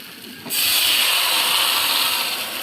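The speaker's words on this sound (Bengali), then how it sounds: "মাছ দিয়ে নেড়ে চেড়ে পানি দিয়ে দেবো।" Water splashes into a hot pan of fish curry with eggplant and potato, setting off an abrupt loud steamy hiss that surges and then holds steady, close up with no talking.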